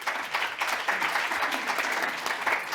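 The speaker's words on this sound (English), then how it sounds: "can we give the round of applause?" Sustained audience applause fills a plenary hall at a sustainability finance event as a winning team is announced, with a dense and steady clapping texture at moderate volume and no voices over it.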